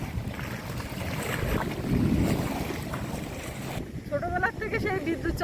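Strong storm wind roars steadily over choppy waves during a sudden afternoon squall in the Sundarbans. The gusting noise is loud and continuous, then thins near the end as a few brief tonal calls break through.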